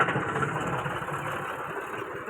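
A 2004-model tractor engine idles steadily nearby at a tractor market in Barnala, with a constant low rumbling throb and no talking.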